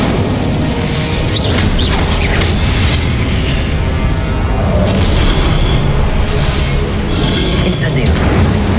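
Incendio fire spells blast again and again in Hogwarts Legacy combat, a sustained string of loud booming bursts and crashes with a voice faintly underneath.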